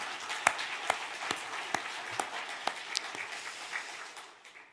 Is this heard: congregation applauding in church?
yes